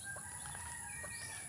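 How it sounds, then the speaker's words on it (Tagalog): Chickens kept behind a house cluck softly in the distance, a faint scatter of short calls over a steady hum of outdoor ambience, with no voices. "Diyan pa yung mga manok ko."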